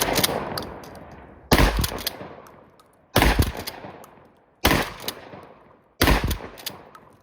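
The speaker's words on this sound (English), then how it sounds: "I'm going to start with the slug gun. We are loaded, safety off. I'm going to shoot at the two left turn targets." A JC Higgins Model 20 12-gauge shotgun fires slugs at targets outdoors: five loud, sharp blasts spaced about one and a half seconds apart, each followed by a ringing decay, with no talking.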